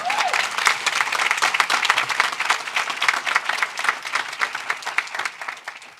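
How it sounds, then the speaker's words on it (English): An audience at a bill-signing event breaks into dense, lively clapping that rolls on steadily and tapers slightly toward the end. "go ahead and clap for that"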